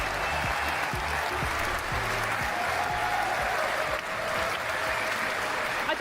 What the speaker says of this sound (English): it's a very, very lovely cheer